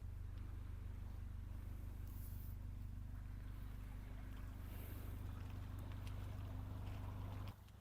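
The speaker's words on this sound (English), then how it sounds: "Oh, there's a boat coming right on cue." A boat on the Cheshire canal passes nearby with a steady low engine drone that holds throughout, then cuts off abruptly at the end, with faint wind over it and no talk.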